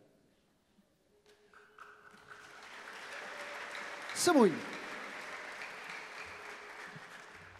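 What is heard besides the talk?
congregation applauding in church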